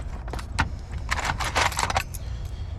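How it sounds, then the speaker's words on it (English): A ring of locksmith's space and depth keys for decoding an Emtek egg knob lock cylinder jangles up close in several short, bright metallic bursts. "Let's grab our space and depth keys"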